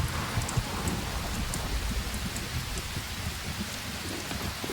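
A rainstorm hammers down outdoors, a dense continuous patter of drops with occasional low rumbles underneath, steady and fairly close throughout.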